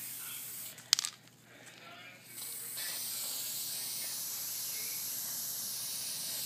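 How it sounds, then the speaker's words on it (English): Spray paint can hissing out a steady, close spray after a brief clatter and short pause, the hiss holding level to the end with no speech. "Some layers of the spray paint and roll it some more."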